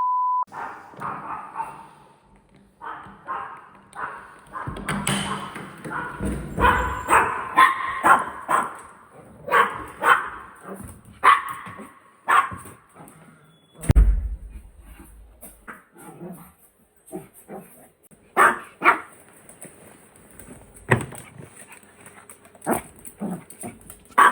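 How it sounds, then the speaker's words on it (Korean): A dog barks repeatedly in uneven bursts, mixed with whimpers and yips, close by and fairly loud, with quiet gaps between outbursts. "우리 댕댕이 담이 도착하자마자 안전돼서 10분 동안 달래줘야 됩니다"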